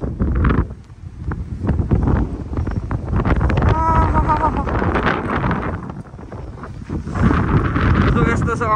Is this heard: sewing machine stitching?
no